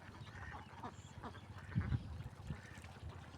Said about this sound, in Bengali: অনেক হাঁস রয়েছে